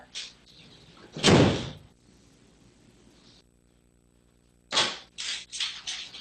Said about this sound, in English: Please shut the door.